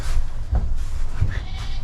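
Sheep bleating in short bursts while being caught and wrestled on a farm, close and loud over a steady rumble of handling noise.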